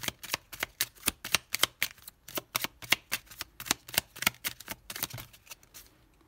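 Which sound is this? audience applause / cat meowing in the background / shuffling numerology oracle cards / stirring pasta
shuffling numerology oracle cards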